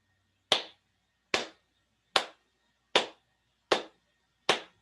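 Six crisp single hand claps at an even, steady pace of roughly one every 0.8 seconds, close and clear in a quiet room, keeping time for walking.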